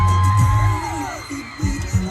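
A crowd at a movie cast event whoops, yells and cheers loudly and continuously in a large space, with rising bursts of shouting near the end.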